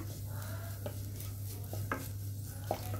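A spoon stirring ground pepper into egg bhurji in a pan, with soft scraping and a few short clinks against the metal over a low steady sizzle and a constant background hum.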